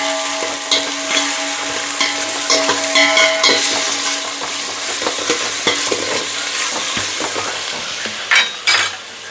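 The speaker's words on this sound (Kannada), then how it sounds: "ಸ್ವಲ್ಪ ಫ್ರೈ ಆಗಲಿ." Pieces of food fry in a hot pan while being stirred, a steady close sizzle with scraping and occasional utensil clinks against the pan, no voices.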